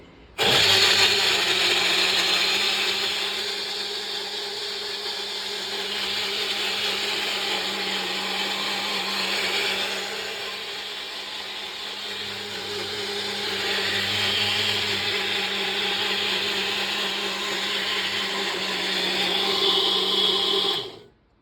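An electric mixer grinder blending a Sharjah shake runs loud and close for about twenty seconds, a steady high whirring motor hum that dips slightly in the middle, then cuts off abruptly.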